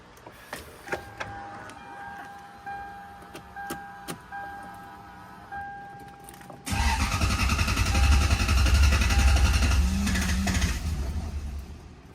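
A high-mileage Lexus with a suspected fuel pump or ECU fault gives a few soft clicks and electronic chimes, then its engine cranks loudly and continuously for about five seconds without catching, heard close with no talking.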